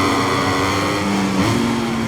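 A Ducati MotoGP bike in the MotoGP 23 game screams loud and close at Mugello circuit, its engine note holding steady and then climbing in pitch as it winds up.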